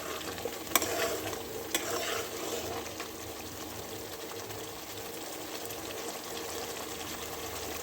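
Potatoes frying with spices in a kadai, a steady low sizzle and crackle running throughout, with a couple of sharp clinks from a spoon near the start and no voices.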